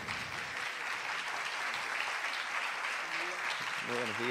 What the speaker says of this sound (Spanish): Les pido un aplauso a todos que se han subido aquí.